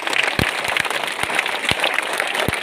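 A short burst of applause from students at a school morning assembly, scattered claps rising and fading, fairly faint and somewhat distant.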